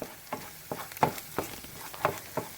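Spinach and shallots sauté in olive oil in a pan, with soft, irregular sizzling crackles and light stirring pops, quiet and close, with no talking.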